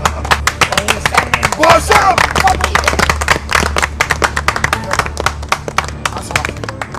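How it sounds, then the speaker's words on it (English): Rhythmic group clapping at a lively Ghanaian Asante Twi gathering, dense overlapping claps over a steady low drum-like hum, with voices chattering and shouting throughout. "Clap for them, clap for them."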